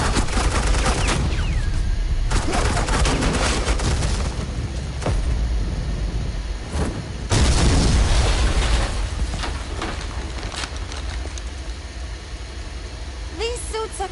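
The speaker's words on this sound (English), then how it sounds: "Suppressing fire." Rapid bursts of gunfire from the video game Batman: The Enemy Within rattle loudly and continuously, with heavy volleys and a sharp surge partway through, layered over dense action noise.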